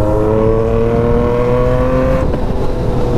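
A yellow Yamaha MT-09 with an aftermarket exhaust and remapped ECU idles loud and close, a steady throbbing engine note that briefly roughens near the end.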